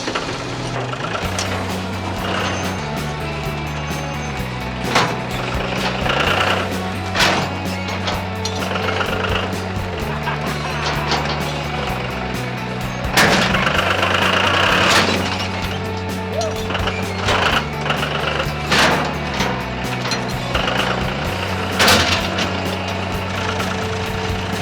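A tractor with a busted cylinder runs while moving a stump, its engine rumbling steadily and loudly close by, with intermittent clanks, knocks and rattles from the machinery across the whole stretch.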